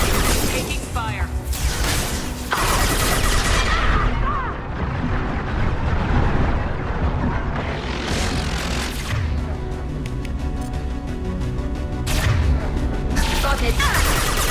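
Gunfire in the sci-fi shooter Mass Effect 2 during Tali's loyalty mission, dense loud bursts of shots and blasts rolling almost continuously with brief lulls, under battle effects and a character's voice.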